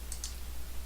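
Two quick, light computer mouse clicks close together near the start, set against a quiet room with a steady low hum underneath.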